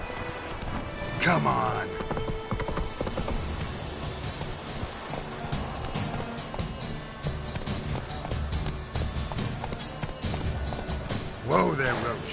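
Roach the horse gallops in The Witcher III, a rapid rhythmic clip-clop of hooves close by under a steady rain-like ambience, with a brief whinny near the start and end and someone speaking over it.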